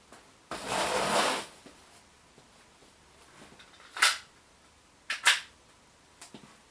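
Action Army AAP-01 airsoft pistol shooting 0.3 gram BBs on green gas, a hissy gas burst followed by a few sharp snapping shots at irregular intervals, close and fairly loud.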